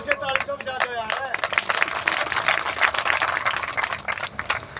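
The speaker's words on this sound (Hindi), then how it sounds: "एक बार जोर से ताली तो बजा दो यार" An audience at a gathering claps in a dense, steady burst of many hands that fills the whole moment, with a voice speaking briefly over the start.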